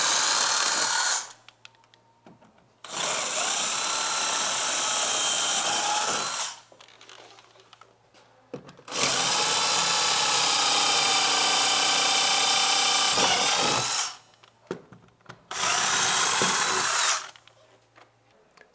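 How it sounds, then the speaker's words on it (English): A power drill whines loudly in three long bursts, grinding steadily through a metal panel, with short quiet gaps between each run. "we're just going to drill out 4 holes in these upper corner"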